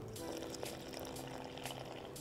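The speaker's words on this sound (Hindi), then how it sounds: "ये पानी इसमें गया" Water is poured into a bowl of flour, cornflour and rice flour batter mix, making a soft continuous splashing trickle, close and fairly quiet, with no talking.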